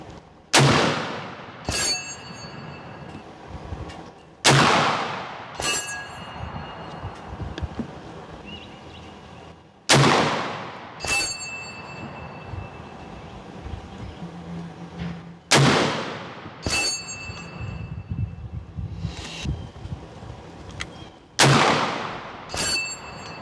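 A 45-70 rifle fires heavy, slow 410-grain Hornady Subsonic rounds at a 200-yard range: five loud, sharp reports spaced several seconds apart, each trailed by a long decaying echo, with no talking.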